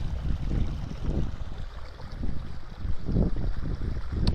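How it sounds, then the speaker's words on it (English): A large mass of moving, swirling water rumbles and churns in low, uneven surges, loud and close, with wind buffeting mixed in and no voices. "That's a lot of water moving."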